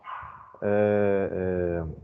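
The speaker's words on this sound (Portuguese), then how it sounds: "estão voltando os cachorros." A dog lets out a loud, close, drawn-out yelping bark, preceded by a brief whine.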